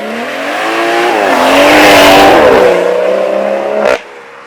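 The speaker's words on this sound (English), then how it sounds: "we're gonna actually do the launch control with the rear-wheel drive X-Drive Delete on the car to see how bad it actually spins" A BMW with its xDrive all-wheel drive deleted to run rear-wheel drive makes a launch-control start, with the engine revving hard through rising harmonic sweeps and spinning rear tyres hissing loudly for about four seconds before it abruptly cuts off.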